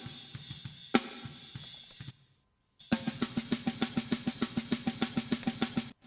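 Isolated snare drum microphone track from a metal mix with heavy hi-hat bleed: rapid even ticking hits dominate, a short silent gap interrupts, then a dense steady run of sharp strikes resumes.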